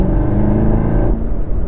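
A 2019 Chevrolet Camaro ZL1 1LE on a race track revs hard as the throttle is punched, a loud, close engine roar with a rising harmonic whine that drops off near the end.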